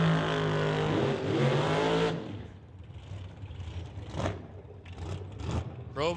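Top Dragster cars at an NHRA divisional drag race at Mission Raceway let out a loud, high engine rev for about two seconds, then the noise drops to a quieter trackside rumble with faint bursts.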